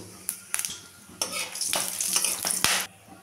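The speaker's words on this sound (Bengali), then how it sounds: "আরও খানিকটা তেল নিয়ে নিলাম, দিলাম এখানে ফোড়ন দেব, গোটা জিরে, শুকনো লঙ্কা, গোটা গোলমরিচ" Whole cumin, dried red chillies and whole peppercorns crackle in hot oil, with a few sharp clinks of a utensil against the pan before a steady sizzle builds and fades.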